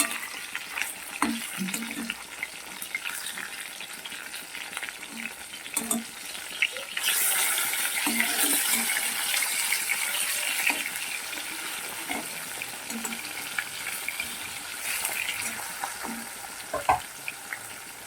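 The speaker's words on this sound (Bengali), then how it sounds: "একদিকটা ভালো করে ভাজা করে আবার উল্টে অপর দিকটা ভেজে নেবো" Katla fish pieces fry in hot oil in a pan, giving a steady close sizzle throughout with scattered clinks and scraping as the pieces are stirred and turned.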